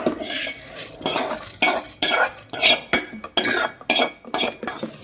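Metal spoon scraping and clinking against a pan while a talimpu tempering is stirred, a run of about ten sharp, irregular clatters close up with faint sizzling beneath and no talk.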